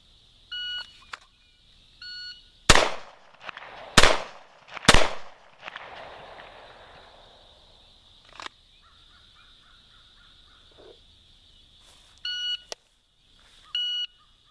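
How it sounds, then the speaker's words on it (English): A shot timer beeps in short bursts, followed by three loud, sharp SIG P250 pistol shots spaced about a second apart, then more scattered beeps and one fainter report. "There we go with the shot timer."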